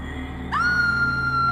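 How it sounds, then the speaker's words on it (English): Women scream in a horror story sound effect, a sudden high, sustained shriek that rises sharply and holds loud for about a second. "The women screamed and began to cry out for their daughters"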